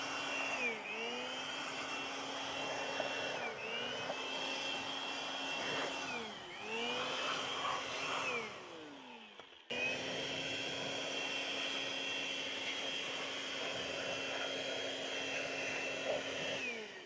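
A blower machine whines steadily as it blows dust out of a car interior and off the dashboard with the doors open. Its pitch dips and recovers several times before one long, even blast.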